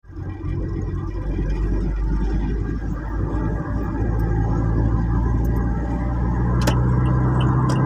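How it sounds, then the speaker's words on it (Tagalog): Cars overtaking on a road on a trip from Albay to Batangas, a continuous loud engine rumble and tyre roar from close by, swelling as vehicles pass, with no talk. "Nag-overtake na yung mga kotse."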